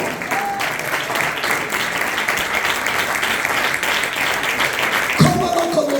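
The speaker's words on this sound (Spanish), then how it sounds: "Denle palmas a Dios." A church congregation claps and applauds steadily and fairly loudly through a Spanish-language sermon, the dense clapping holding an even level before a voice breaks in near the end.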